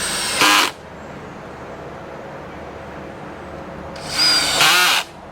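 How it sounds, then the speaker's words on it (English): A power drill whirs loudly in two short bursts, the second longer, driving screws into lumber with a rising whine and brief pauses of quiet between. "drive the screws"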